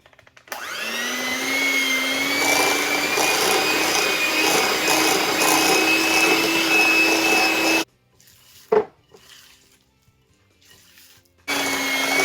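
Cookie dough for cherry white chocolate chip cookies is blended by an electric mixer, which whirs loudly and steadily at close range for about eight seconds, then stops, leaving a quiet gap with a brief knock before the motor starts again.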